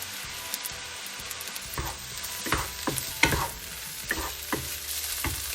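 Curry chicken fried rice made with leftover rice stir-fried in a wok, rhythmic scraping and tossing strokes over a gentle sizzle, close and moderately loud.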